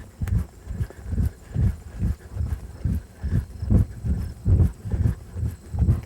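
A ridden horse walks around a riding arena on a circle, hooves thudding in a steady, even rhythm of soft muffled footfalls, close and moderately loud with no talking.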